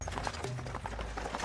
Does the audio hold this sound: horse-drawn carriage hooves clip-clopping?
yes